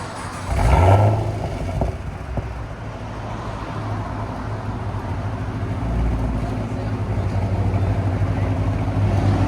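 A 2015 Chevy SS with a 6.2L V8 and X-pipe exhaust gives a loud rev at the start, then settles into a deep, steady rumble that swells slightly near the end.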